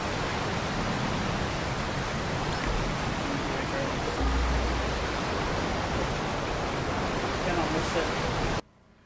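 A waterfall beside train tracks on a small island in Grand Theft Auto V gives a constant broad rushing roar, loud and even throughout, then drops away suddenly at the end.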